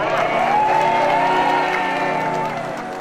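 Audience applause and cheering at a political speech, a steady dense wash of clapping with whoops mixed in, loud and sustained before fading slightly near the end.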